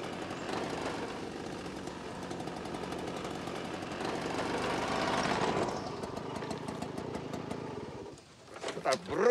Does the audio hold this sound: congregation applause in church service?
no